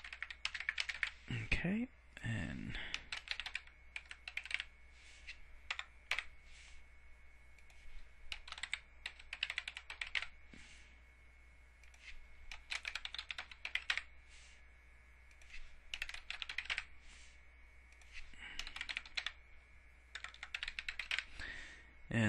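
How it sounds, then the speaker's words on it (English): Typing on a computer keyboard while editing an HTML file, with bursts of quick close clicks and key taps separated by short pauses, and a brief spoken word near the start. "Sorry for my sloppy typing"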